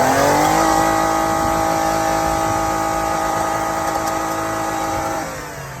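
Toyota Kluger engine running after sitting for years, a steady close idle hum with a constant tone that holds level throughout, then drops slightly at the end.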